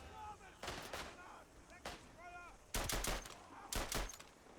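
Bursts of Madsen light machine gun fire in Isonzo, a First World War game with snowy terrain, short rapid volleys heard at a moderate distance and separated by pauses, with the final two bursts louder and closer.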